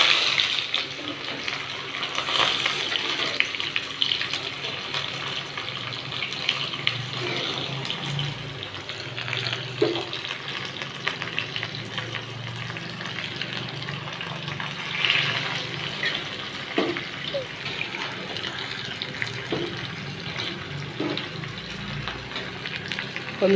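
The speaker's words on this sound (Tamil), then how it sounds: "வெங்காயம், சின்ன வெங்காயம் தாளிக்க" Small shallots fry in hot oil with mustard seeds and urad dal for a village-style beef curry, a dense steady sizzle running throughout with faint stirring clinks.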